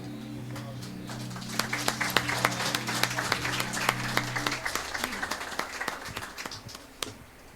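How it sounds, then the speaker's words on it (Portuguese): A church congregation applauding at an evening service, sustained dense clapping from many hands with a low hum of voices and a tone early on, fading slightly toward the end. "As palmas louvam e engrandecem o nome do Senhor, o nome do nosso Salvador Jesus Cristo nessa noite"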